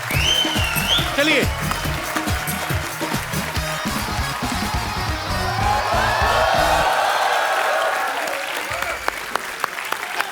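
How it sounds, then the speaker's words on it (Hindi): Studio audience on a Hindi comedy talk show with Shah Rukh Khan and Alia Bhatt bursts into loud, sustained applause and cheering, a dense crowd roar over about seven seconds, with a host talking on top and a whoop early on. "जोरदार तालियां शाहरुख भाई और आलिया के लिए।"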